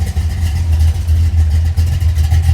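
Ford Fox Body Mustang V8 running after an oil pump replacement, a loud, close, deep rumbling idle with a steady throbbing pulse and slight unevenness throughout.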